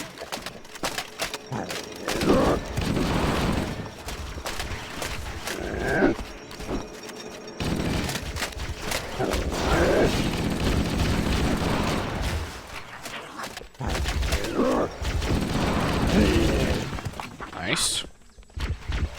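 Gunfire and plasma weapon shots in the video game Halo: Combat Evolved, rapid bursts and booming impacts through a dense, continuous battle mix, with players talking over it.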